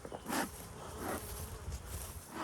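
Bees buzz faintly around beehive boxes, a low steady drone with a few brief swells of nearby wingbeats and soft handling noise, heard alone without voices.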